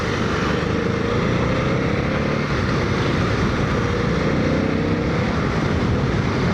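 Aprilia RST 1000 Futura motorcycle riding on the road at around 40 mph, with a loud continuous engine drone mixed with heavy wind rush, no talking.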